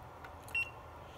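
A multimeter gives a single short, high continuity beep while pins on an ESL daughterboard from a 1998 Subaru Impreza STI are being probed; the beep is faint and brief over quiet background hiss.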